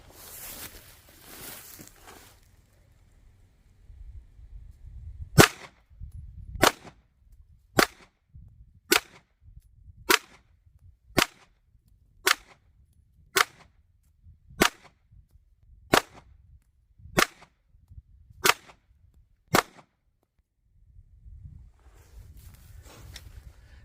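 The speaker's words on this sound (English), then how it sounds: "I only bought enough 9mm to fill up the magazine, so let me just take some practice shots." A 9mm pistol fires a dozen sharp practice shots outdoors at a ranch, evenly spaced about a second apart, each crack loud and abrupt against quiet surroundings.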